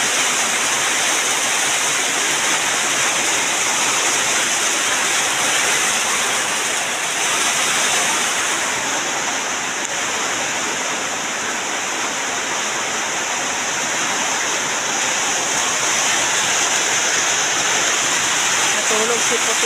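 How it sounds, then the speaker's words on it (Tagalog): Heavy rain pours in a steady, dense hiss that fills the whole clip, loud and constant like rushing water, with no clear speech audible over the downpour. "Kusog yapon kay ang ulan guys."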